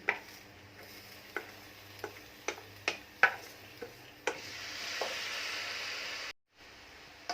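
Lentils being stirred in a pot: a string of light taps and knocks from the spoon against the pot, spaced irregularly over a faint background hush, with no talking.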